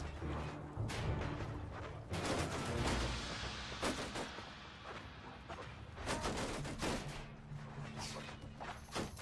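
Gunfire in a Mount and Blade 2: Bannerlord battle, dwarf forces in The Old Realms, irregular heavy shots and thuds booming over a constant din of combat, with bursts clustered near the start, middle and end.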